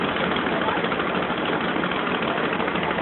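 A vintage engine-driven saw bench idles at a machinery rally, a loud, steady low chugging engine drone that runs unbroken throughout.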